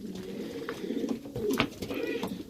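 Several fantail pigeons coo steadily in soft, overlapping rolling calls, close by, with a brief rustle in the middle.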